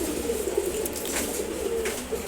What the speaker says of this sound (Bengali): আজকে গিরিবাজ কবুতরটাকে দেখাবো।